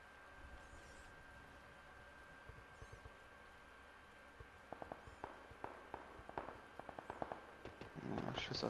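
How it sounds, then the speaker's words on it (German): Distant gunfire in PUBG on PS4: a scattering of faint, sharp cracks in irregular bursts during the second half, over a steady low game ambience and a thin constant tone. "Schüsse aus dem Westen."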